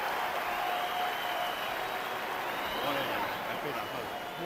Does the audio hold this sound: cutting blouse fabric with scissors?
no